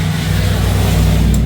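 Loud, steady street traffic noise in Johnson City, Tennessee, with a constant low engine rumble, close by and unbroken throughout.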